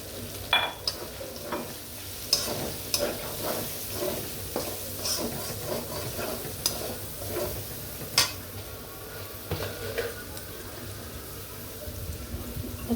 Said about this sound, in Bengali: এই তেলে আমি পেঁয়াজ দিয়ে দিব, পেঁয়াজ কাঁচামরিচ আমি কেটে রেখেছিলাম